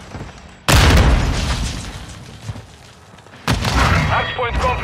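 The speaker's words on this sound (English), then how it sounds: "Throwing Semtex!" Semtex grenade blasts in Call of Duty: Modern Warfare 2 multiplayer gameplay: two loud, sharp explosions a few seconds apart, each with a rumbling tail, over ongoing game noise and voices.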